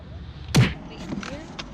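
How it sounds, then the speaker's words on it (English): A single dull thud of a vehicle door shutting, fairly close, followed by faint background noise and a few soft knocks. "Door's closing."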